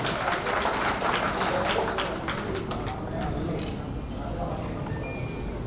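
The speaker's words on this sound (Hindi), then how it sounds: "तालियां हुजैर साहब के लिए" An audience at an awards ceremony claps together in a burst of applause that slowly thins out, with a low murmur of voices underneath.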